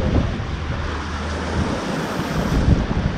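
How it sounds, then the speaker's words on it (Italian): Atlantic Ocean waves washing in a steady broadband rush, with wind buffeting the microphone and a low engine-like drone underneath, continuous and fairly close. "Ecco le onde dell'Atlantico."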